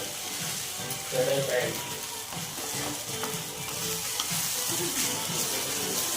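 A spoon scrapes and stirs through kande poha in a pan over a steady sizzle, with a soft voice faintly underneath.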